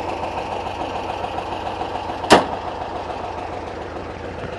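A Porsche 914 engine runs at a steady idle. A low, even rumble continues throughout, broken by one sharp click midway.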